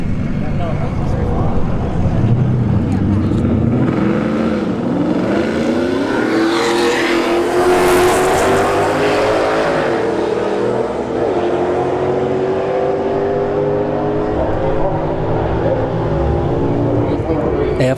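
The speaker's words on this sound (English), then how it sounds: "S197 Mustang versus the F150." An S197 Ford Mustang and a Ford F-150 launch down a drag strip at a street test-and-tune night, engines roaring loud and rising in pitch as they pull away, with an announcer talking over the run.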